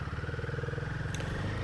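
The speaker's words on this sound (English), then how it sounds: "The 452cc engine pulls well." The 452cc engine of a Himalayan 450 motorcycle thrums steadily while the bike is ridden, a low pulsing drone under wind noise.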